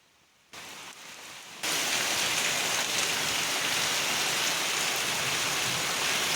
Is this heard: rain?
yes